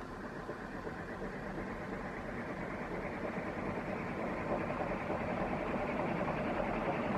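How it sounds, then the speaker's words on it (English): A 1982 ReLite Airmaster Mark VII industrial ceiling fan runs on high with a steady, dense whoosh of moving air and motor hum, holding constant and then swelling slightly without a clear drop. "Actually, I'm going to turn it to high, then shut it off for a spin down."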